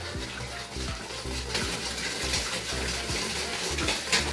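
Water pours steadily into a plastic basin holding sugar, salt, powdered milk and oil for malunggay pandesal dough, a continuous close gushing stream with a rhythmic low thumping beneath it throughout.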